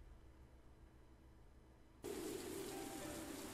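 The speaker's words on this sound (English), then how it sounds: "Oh, it's raining again" Rain falls in the mushroom-hunting video game Morels: The Hunt. It starts as a faint, steady hiss, then abruptly swells into a louder, even wash of rainfall that lasts to the end.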